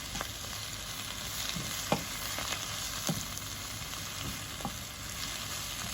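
Spinach sizzles and fries steadily in a pan for spanakopita filling, a constant hiss broken by a few soft scrapes as it is stirred and wilts.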